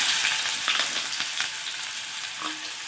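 Sliced onion frying in hot oil with mustard seeds, a steady close hiss with faint stirring scrapes and small pops throughout.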